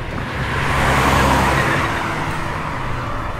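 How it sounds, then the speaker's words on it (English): A car accelerating hard and swerving into traffic in an audio-drama action scene, a broad steady engine roar that swells loud around the middle and then holds slightly lower, with no voices. "Stepping the gas pedal to the floor, Val's vehicle swerves into traffic."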